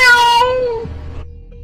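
A single loud, close meow from a black cat, drawn out and falling in pitch before fading into quiet.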